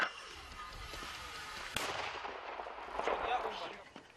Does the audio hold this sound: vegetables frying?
no